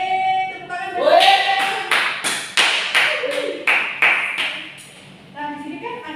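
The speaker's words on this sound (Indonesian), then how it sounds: "Yeay, tepuk tangan." A group of people claps for a short stretch, with bursts of sharp hand slaps coming through in uneven waves.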